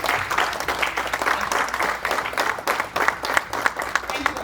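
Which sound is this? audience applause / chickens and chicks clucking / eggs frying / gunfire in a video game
audience applause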